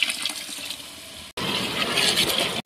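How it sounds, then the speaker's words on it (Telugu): Water poured into a cooking pan of chilli-powder masala, a loud, close rushing splash of liquid that starts abruptly and runs steadily for over a second, with no talking. "వాటర్ పోసుకోవాలి."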